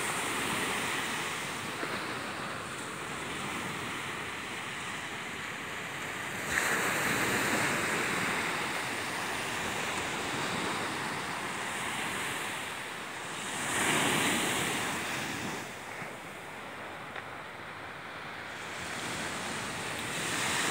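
Ocean waves roll onto Maresias beach in Brazil, a continuous broad wash of surf with swells rising around seven and fourteen seconds, mixed with steady wind rumble across the microphone.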